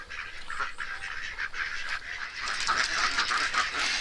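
Many ducks on a Thai duck farm quack continuously in a dense, busy chorus, close and fairly loud, with overlapping calls building slightly toward the end and no clear talk.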